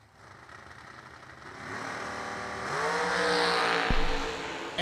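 Drag race cars leave the line at a drag strip, engines climbing from a low rumble into a loud rising roar with a sharp revving sweep, then a brief thump near the end.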